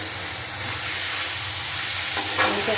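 Banana flower and shrimp, seasoned with salt, turmeric and coriander powder, are stirred as they fry in a pan, making a loud, continuous close sizzle with a few scraping stirs near the end.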